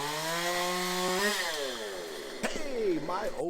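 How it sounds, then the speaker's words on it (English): Close and loud, a one-handed chainsaw cutting wood holds a high engine whine, then drags lower as the bar bites in, with sharp knocks and a brief rising rev near the end. No one speaks. "One-hand chainsaw action."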